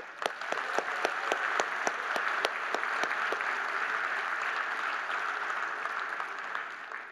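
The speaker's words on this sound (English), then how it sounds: "One more round of applause for Johnny" An audience at a gala awards evening applauds for Johnny, steady dense clapping with a few sharp individual claps standing out near the start, sustained for several seconds.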